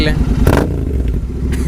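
A Royal Enfield Continental GT 650 motorcycle engine idling, a steady low throb close by, with a short clatter and a person speaking briefly over it.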